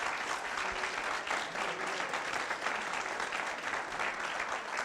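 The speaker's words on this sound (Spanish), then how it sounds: "Un aplauso, por favor, también para..." A church congregation at a Sunday service breaks into sustained, even applause that sounds somewhat distant and fills the room without pause.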